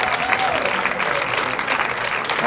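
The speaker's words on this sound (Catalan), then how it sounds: "Un fort aplaudiment pel Víctor." Applause from a crowd at a sixth-grade graduation ceremony, a dense, steady wash of clapping filling the room, with voices faintly mixed in underneath.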